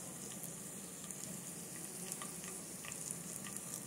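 Dried red chillies crackle in hot tempering oil with mustard seeds and cumin, a faint, continuous close sizzle dotted with tiny pops and spatters.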